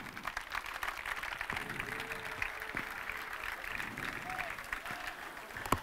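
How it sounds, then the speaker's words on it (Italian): An audience at the official presentation of the Pesaro basketball team applauds steadily, with a crowded crackle of clapping that runs throughout while voices carry underneath. "Un bel applauso."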